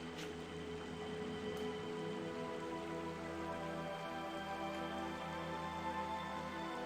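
Rain ambience from the video game Radiant Historia: a soft, continuous patter of rainfall with faint drips, steady and quiet throughout, with no voices.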